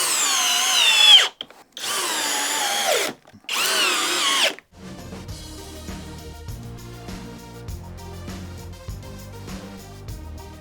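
A cordless drill drives a 3 1/8 inch GRK screw in three loud, close whirring bursts separated by short pauses, after which music takes over.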